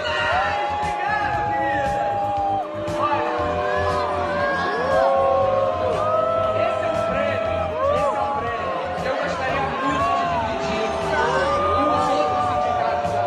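A large award-show crowd boos Felipe Neto at MTV Miaw 2018: a loud, sustained roar of massed voices with whistles and shouts runs throughout, dense and close, with no lull.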